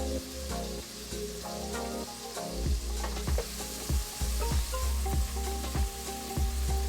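Tomatoes for a spaghetti bolognese cook down in a pan with a continuous close sizzle, broken by repeated soft scraping taps as the sauce is stirred.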